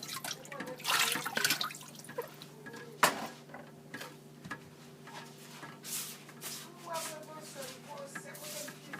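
Chopped Chinese lettuce being washed by hand in a basin of water, with soft splashing, sloshing and dripping in irregular bursts close by, and occasional clinks of the basin.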